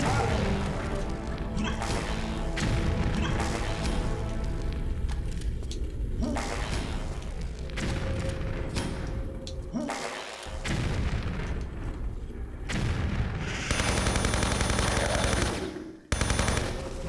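Rapid gunfire from the Tomb Raider Remastered heroine shooting at an enemy: loud, repeated cracks and bursts come in clustered volleys over a steady game soundscape, with brief pauses between them.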